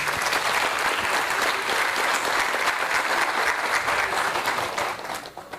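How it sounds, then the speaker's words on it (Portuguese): Round of applause from a gathered audience at a World Water Week lounge inauguration, steady close clapping that tapers off slightly near the end. "Uma salva de palmas para os dois aí."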